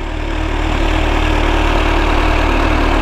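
A Kawasaki H2 SX motorcycle, Euro 4 compliant, idles through its exhaust with a steady, loud, close-up mechanical rumble and fine rapid pulsing throughout.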